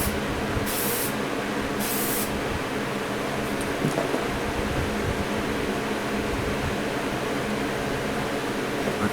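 An aerosol sprays Ford Blue Metallic base coat onto a Matchbox Porsche 911, a steady close hissing that runs unbroken, with two short bursts of sharper spray near the start.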